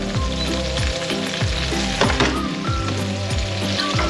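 Chopped red and green peppers fry for a rice sofrito with garlic in a pan, a loud continuous sizzle close up broken by rhythmic scraping strokes of stirring.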